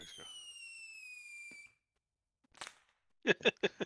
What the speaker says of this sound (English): Little bottle rocket.